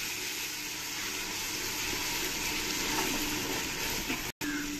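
Cumin and coriander paste mixed into spices frying in oil for an egg and soyabean biryani, a steady dense sizzle running throughout with faint stirring, briefly cutting out near the end.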